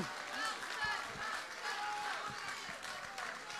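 An audience at a rally meeting applauds, a moderate spread of clapping that rises and ebbs slightly, with voices mixed in beneath it.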